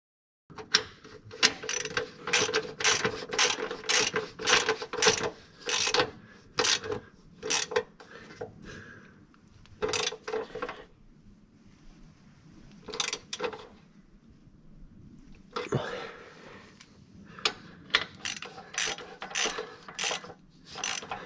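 A ratchet wrench tightens a fastener in repeated quick bursts of sharp clicking, each run of clicks followed by a pause, close and clear with a steady background hum.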